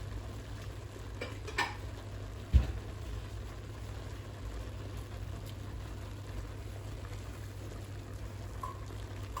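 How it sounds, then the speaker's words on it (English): A spoon stirs cooked rice in a pot, olive rice with chicken, giving soft scraping and shuffling, then one sharp clack against the pot near the middle, all over a low steady hum with no talking. "And then we stir the rice a bit."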